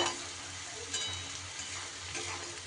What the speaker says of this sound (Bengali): পেঁয়াজটা কিন্তু আমার বেশ লাল লাল ভাব হয়ে গেছে ভাজা